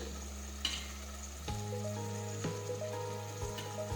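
Crushed garlic chutney and turmeric frying in a pan for a mixed aubergine, potato, tomato and pea shaak: a steady close sizzle with crackling pops, a sharp tap early on and a louder burst as the spices hit the oil, with no talking.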